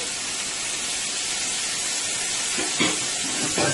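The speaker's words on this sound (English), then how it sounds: "my oil is pretty hot here, so I'm going to go ahead and add my bacon" Bacon dropped into hot oil in a pan for a cabbage stir fry, giving a loud, steady, broadband sizzle. Close spatters and crackles pop through near the end.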